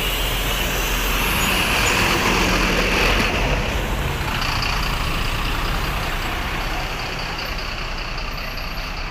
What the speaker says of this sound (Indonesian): Suara mesinnya masih garing